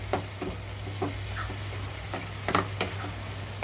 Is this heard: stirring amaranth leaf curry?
yes